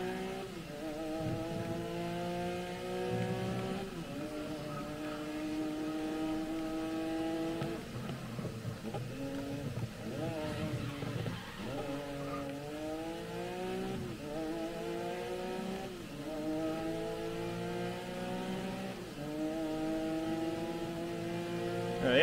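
Porsche race car engine in the racing video game GRID Legends, revving hard and continuously, with repeated upshifts and climbing pitch sweeps, loud and up close throughout with no talking.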